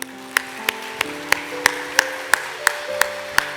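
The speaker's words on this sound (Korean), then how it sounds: "주님 앞에 영광의 박수 한번 돌리겠습니다" A church congregation claps in a steady, evenly spaced rhythm, with sharp individual claps ringing out over sustained keyboard or organ tones during a Sunday morning service.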